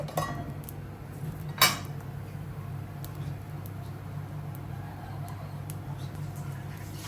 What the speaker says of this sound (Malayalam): നമുക്ക് മൂടി തുറന്ന് നോക്കാം.